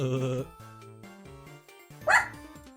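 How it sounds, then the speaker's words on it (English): A pet dog barks at the neighbours in a home, a single sharp burst near the end rising over steady background game music. "Apparently he's just barking at our neighbors again."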